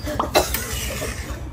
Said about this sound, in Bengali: মা নারিকেল খাইতে খাইতে এমন কাশি উঠছে